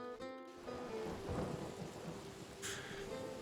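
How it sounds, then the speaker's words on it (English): Rain and thunder in The Oregon Trail game, a constant hiss of downpour with a low rumbling roll of thunder, steady and fairly close throughout. "a constant blanket of rain"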